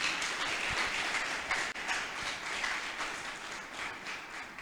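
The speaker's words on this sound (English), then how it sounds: "Can you do a better clap for him?" An audience at a university guest lecture in Lagos claps for the guest lecturer, a sustained, fairly distant wash of applause with no talk over it.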